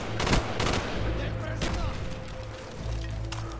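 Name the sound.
gunfire and grenades in video game Black Ops 1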